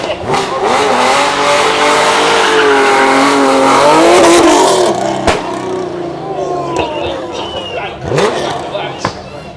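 A loud 4.5-litre sports car engine with a pop and crackle map revs and rises in pitch at a supercar show, then drops to a burbling idle with sharp pops and crackles, while people talk over it.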